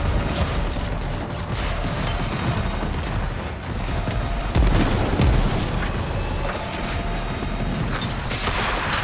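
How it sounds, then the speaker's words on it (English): Torpedoes launching from a railjack spacecraft in a sci-fi video game, a dense roaring mechanical rumble with a heavier boom midway, loud and continuous without speech. "Gunnery crews. Launch torpedoes."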